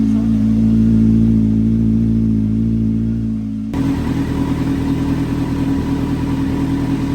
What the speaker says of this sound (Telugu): కోల్డ్ స్టార్ట్ చేసినప్పుడు నా బైక్ మాత్రం చాలా లౌడ్గా ఉంటుంది